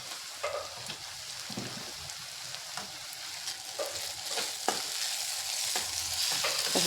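Dried fish with red chilli powder is sautéed in a pan, giving a constant sizzle with repeated spatula scrapes and stirs at a fairly even rhythm, close and alone without any speech.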